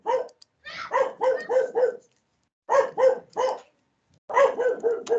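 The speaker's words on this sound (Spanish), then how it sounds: "les pido disculpas por mi perrita que se puso a ladrar" A dog barks in three bursts of rapid yaps separated by short pauses, nearby and fairly clear, with no talking.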